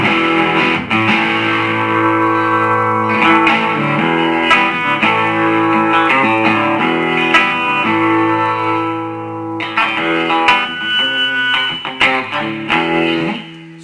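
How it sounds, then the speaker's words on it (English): An electric guitar plays through a Kustom Coupe '36 combo amp on the clean channel with the gain turned up and a humbucker pickup selected, giving a slightly driven tone as chords and picked notes ring out steadily and close. "You can turn the gain up on the clean channel and put the humbucker in."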